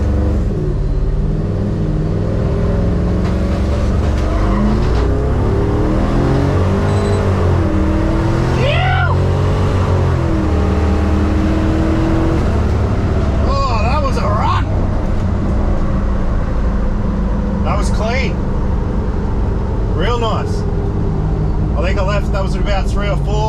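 A race car at a drag event idles and revs loudly, its engine note rising and falling, with tyre squeal and other car noise nearby while people talk over the continuous roar.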